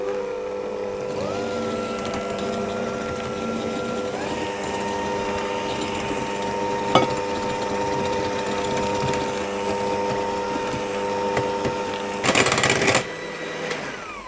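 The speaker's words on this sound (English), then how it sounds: "I'm going to slowly add the egg as I whisk" Egg being whisked slowly into a Bakewell tart mixture, heard as a steady motorized whirring drone that runs throughout, with a short louder rattling burst near the end and no talking.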